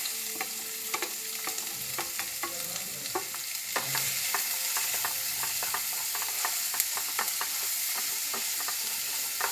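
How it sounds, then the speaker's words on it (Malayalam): Onions sauté in hot oil in a pan while being cooked for a chicken cutlet, a soft continuous sizzle broken by repeated light scraping and stirring clicks, quiet and close, with no talk. "ചൂടായതിന് ശേഷം സവാള ഇട്ട് കൊടുക്കാം."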